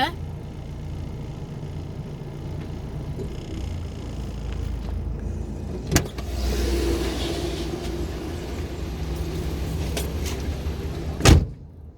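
Steady low road rumble inside a car being driven home from work, with a continuous engine and tyre drone, a brief knock near the middle and another sharp thump near the end.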